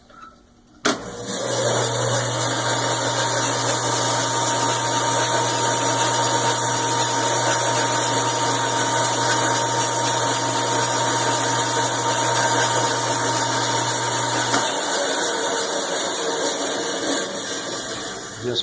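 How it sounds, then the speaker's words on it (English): A Forrest 230 band saw, which cuts up to 25 inches, starts with a click and then runs at a loud, steady hum for about fourteen seconds. Its built-in dust collection draws air the whole time, and the drone drops away abruptly near the end. "we'll go ahead and we'll start it"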